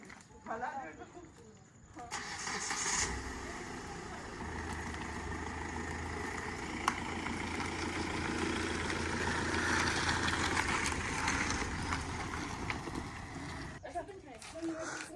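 A car pulled out at a monsoon getaway near Pune sits with its engine running, a low steady idle hum that swells after a few seconds and holds, with people talking nearby.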